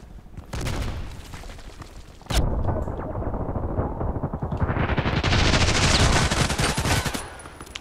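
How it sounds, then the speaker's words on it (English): Gunfire in the shooter game Contract Wars: loud, dense automatic bursts close by, one sharp heavy shot partway through, then sustained rapid fire with no talk. "I was confused where the shots were coming from because they went through the container"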